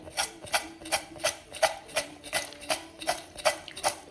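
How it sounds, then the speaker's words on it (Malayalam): Crispy fried Bengal gram snack being tossed and mixed with salt, cumin and chilli masala, a dry crackling rustle in regular scraping strokes, about ten even pulses, close and alone without speech. "ഇതിൻ്റെ ശബ്ദം കേട്ടാൽ തന്നെ നിങ്ങൾക്കറിയാം ഇത് ക്രിസ്പിയാണ് എന്ന്."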